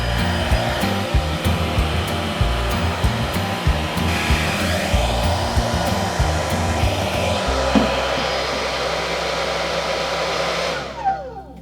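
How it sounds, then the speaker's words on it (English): Handheld hair dryer blowing continuously at close range while a round brush works through medium-length hair, a steady whooshing roar with faint brushing clicks, cutting off at the end. "make sure the airflow from the dryer runs the length of the brush"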